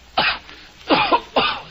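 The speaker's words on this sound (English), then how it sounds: "This cough." A man coughs three times in short, separate bursts, close and fairly loud, with brief pauses between them and no other talk.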